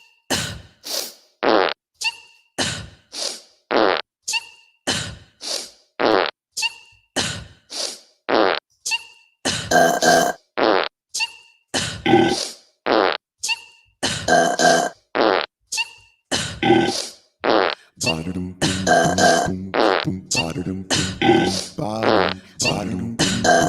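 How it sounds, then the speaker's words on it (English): A novelty keyboard blares a rapid string of fart and burp noises, short loud bursts in an uneven musical rhythm that grow denser and longer toward the end, with no talking. "I'm going to use my fart and burp keyboard to help me because we can't have bands right now"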